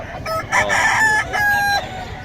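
A rooster crows once, a long wavering call that rises and trails off, with faint background noise and no voices.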